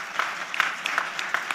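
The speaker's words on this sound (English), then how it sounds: "Let's give a round of applause." A conference audience gives a round of applause, a fairly small group clapping briskly with distinct individual claps standing out, moderately close.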